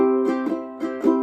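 Ukulele split strum on a diminished chord in a short syncopated pattern, four quick bright strums in pairs, played close with no voice.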